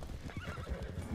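Horses on a road in the video game Red Dead Online, with several neighs and whinnies over steady clip-clopping hooves, fairly close and continuous through the short stretch.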